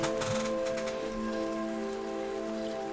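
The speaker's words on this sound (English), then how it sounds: "It's raining." Steady rain falling on a surface beside a stalled, overheated car, a continuous patter with a faint tonal hum running underneath and no voices.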